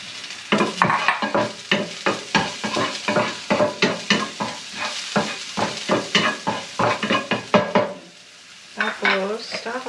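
Small shrimp and vegetables are sautéed in a pan, with a steady run of close, loud stirring scrapes and clinks over a sizzle, ending in a brief pause and then a short voice.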